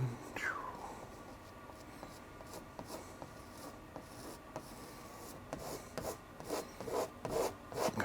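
A palette knife pressed hard drags and scrapes through thick oil paint, giving a steady close rasping rub with short gritty strokes and scrapes building toward the end.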